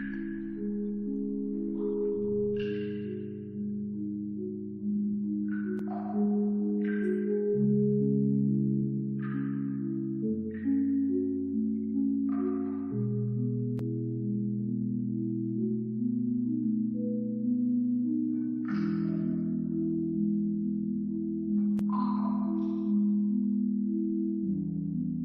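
Sustained, bell-like tones sound slowly in shifting chords as solenoid-driven rubber mallets tap ancient stalactites, each note starting with a soft tapped strike, resonant and calm, with no voices.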